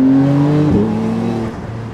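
A 2020 Porsche 911 Carrera 4S engine revs as the throttle opens, a loud, close, steady engine tone that dips briefly and then keeps droning as it spools up.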